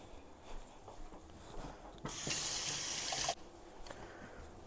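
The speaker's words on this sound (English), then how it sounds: "let me wash my hands." Water runs from a kitchen tap for hand washing, a steady close gush lasting just over a second amid quiet room noise, with no talking.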